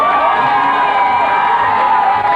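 A Motoshow 2003 audience cheers and whoops in a continuous loud, dense roar of many voices, steady throughout, with no distinct claps standing out.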